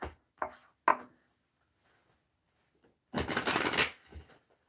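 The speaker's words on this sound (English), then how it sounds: "I'm having a hard time shuffling." Tarot cards are shuffled by hand in a quiet room: two short riffles near the start, a pause, then a longer, louder burst of flapping cards followed by a faint tap.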